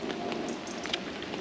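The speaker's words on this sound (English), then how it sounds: "it's raining and it's starting to come down quite heavily" Heavy rain falls on a woodland wild camp, a soft continuous patter with scattered sharper drips close by and no voices.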